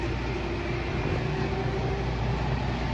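A Lionel CSX toy train runs steadily with a continuous close whirring hum and faint rattling, even and unbroken for a few seconds with no talk.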